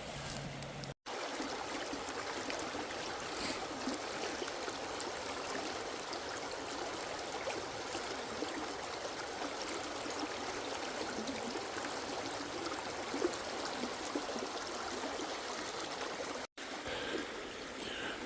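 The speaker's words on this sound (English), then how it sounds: "So I carefully made it across this creek right here" A creek flows nearby in the outdoors, a steady, faint broadband rush and trickle of water continuing unbroken throughout, with no talking over it.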